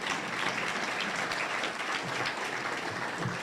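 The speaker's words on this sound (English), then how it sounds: "Go ahead and clap for that, Lyndon." Steady applause from an audience at a school district address, a continuous wash of many hands clapping at moderate distance, even and unbroken throughout.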